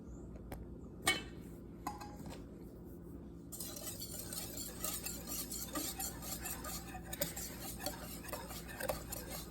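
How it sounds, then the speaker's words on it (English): A whisk scrapes and ticks rhythmically against a bowl while Easter poke cake batter ingredients are mixed, a quick busy clatter that grows denser and brighter partway through, close and steady without talk. "we are now going to whisk that together"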